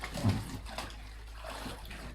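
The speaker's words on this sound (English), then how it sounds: "you've got to jump in the pool, get a water balloon, and bring it back to the spot." Children splash into an outdoor pool to grab water balloons during a movement game, with a burst of sloshing water and splashing up close, then continued lapping and churning water.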